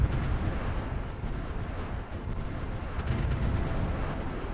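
Artillery bombardment in the strategy game Supreme Ruler Ultimate, a dense, continuous rumble of distant booms and bursts rolling together at moderate volume with no clear gaps.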